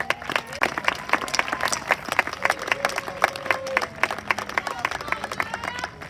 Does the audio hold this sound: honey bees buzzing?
no